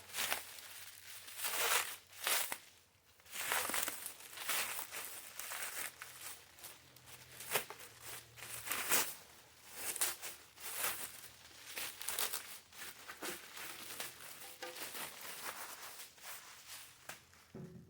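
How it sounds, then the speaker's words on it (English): Packaging around a new Rugged Ridge halogen headlight for a 1997–2001 Jeep Cherokee XJ being unwrapped close by: quiet, irregular crinkling and tearing rustles in uneven bursts, with no talking. "let's start unwrapping our new headlight"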